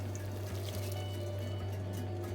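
Liquid pours onto homemade stuffing mix in a baking dish, a steady close trickle and splash over a low constant hum, with no talk.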